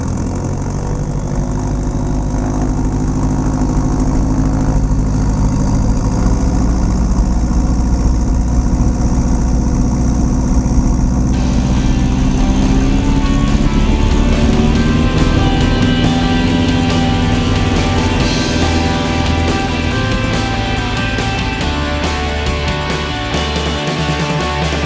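A Cardinal 220 light aircraft's piston engine drones loud and steady through departure from Kern Valley Airport in California, its pitch shifting slightly as power builds, with no voices over it.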